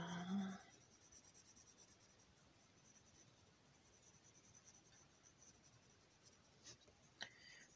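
Colored pencils scratching and rustling across paper in a quiet setting, a soft steady texture running through the clip with a few brief sharper ticks near the end.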